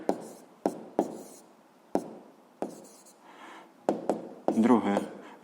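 Pen or marker strokes on paper or a board during a 7th-grade physics lesson, several short scratchy bursts separated by pauses, close and moderately loud with no talk over them.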